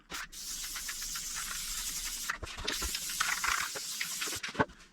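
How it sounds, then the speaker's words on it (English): Two long, hissing bursts from a spray glue can, each steady and close, separated by a short pause, applied to a motorcycle seat pan. "take a little bit of spray glue"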